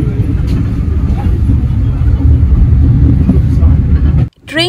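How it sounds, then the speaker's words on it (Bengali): A heritage steam train on the Haworth railway line makes a constant heavy rumble, heard loud and close from inside a carriage with a continuous low roar, then cuts off briefly at the end. "ট্রেন চলার এই শব্দটা কিন্তু আমি ভীষণ উপভোগ করেছি"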